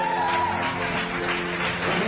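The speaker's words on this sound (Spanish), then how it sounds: "Denle un aplauso al Señor." A church congregation applauds during a worship service, making a continuous wash of many hands clapping. Voices and crowd noise blend into the clapping.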